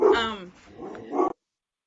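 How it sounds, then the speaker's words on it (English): Dogs at a house bark at someone walking past outside: a couple of sharp, fairly close barks with a short gap between them, cut off abruptly, no talking. "somebody walked past my house or something as the dogs are barking"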